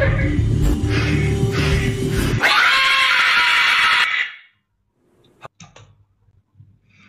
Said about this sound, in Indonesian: Baru mulai sudah ada jeritan seperti itu